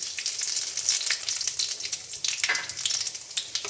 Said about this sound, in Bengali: তেলটা আমার গরম হয়ে গেছে। প্রথমে আমি একটা শুকনো লঙ্কা দিলাম, তারপরে তেজপাতা এবং তারপরে 5 ফোড়ন